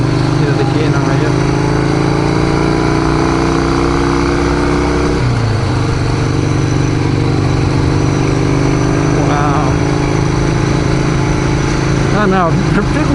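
Harley-Davidson XR883 custom motorcycle with its engine running steadily at close range, a continuous loud throbbing drone that shifts pitch as it is revved midway, with someone talking over it.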